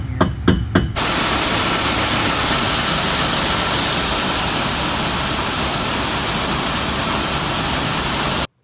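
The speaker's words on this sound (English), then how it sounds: "Gonna go ahead and grind these off the grinder so that they're not on here." An angle grinder cuts parts off an old Cummins farm truck, starting after a few quick clanks and then holding a loud, steady, close hiss-like roar for several seconds before stopping abruptly.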